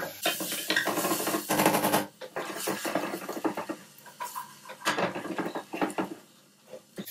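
Bacon sizzles in an enamel pan, a close, crackling hiss broken by scraping and clinking as it is stirred, with irregular bursts throughout.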